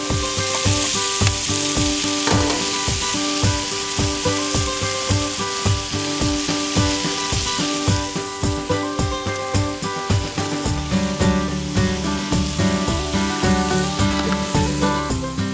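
Eggs and sausages frying on a grill for an Easter brunch, a steady close sizzle and crackle that runs unbroken throughout with light stirring or scraping, no voices.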